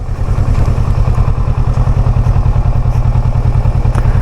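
A Kawasaki Versys 650 motorcycle rolls downhill on a mountain road near Lake Garda, its engine a loud, close, rapidly pulsing thrum that beats evenly throughout with no voices.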